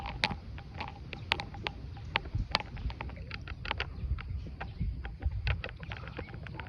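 A rowboat is paddled through floodwater, with steady water noise and repeated small splashes and knocks from the strokes, close and continuous, with light wind and no talking.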